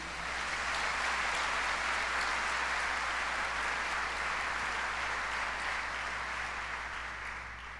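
A church congregation claps in a sustained, dense round of applause that holds steady and fades slightly near the end, with no voices over it.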